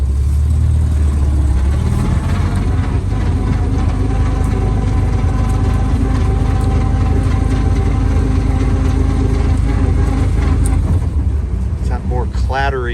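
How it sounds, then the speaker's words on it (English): A Bugeye Sprite with a faulty transmission runs loud and close in first gear, its engine droning steadily with a rough mid-range clatter, while someone talks over it. "Clattery mid-range sound that is the problem, and a new transmission is recommended here"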